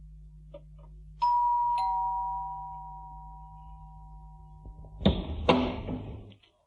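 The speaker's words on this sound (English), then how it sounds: "He went to Bill's flat and rang the doorbell." A two-tone doorbell chime rings at a flat, its ding-dong tones sustaining and slowly fading before a couple of sharp door thuds close the clip; no one speaks.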